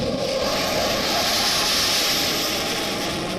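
Rafale fighter jets setting out on a training sortie, a steady loud engine roar with broad rushing noise, continuous and unbroken throughout.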